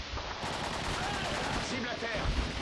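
M4A rifle fire in a shooter video game rattles in dense rapid bursts, loud and continuous, with a voice faintly under the shots.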